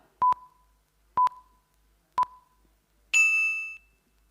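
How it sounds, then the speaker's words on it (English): Three crisp bell dings ring out about a second apart, followed by a longer, brighter ring that hangs and fades, a timing alert used during a green and renewable energy pitching session; no talking. "then we will give 10-second notification bell"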